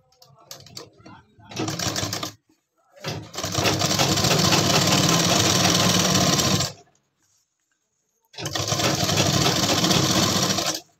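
A sewing machine stitching a pant pocket, running close and steady in three bursts, two of them long, with short pauses between and brief talking near the start.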